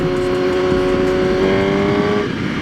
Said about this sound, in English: bike sounds healthy, not skipping a beat